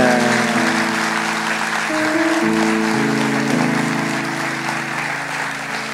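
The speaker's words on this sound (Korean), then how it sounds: "차렷 경례할 때 크게 박수 쳐주세요." A church congregation claps at length during a worship service, a broad, steady wash of applause under sustained organ or keyboard chords.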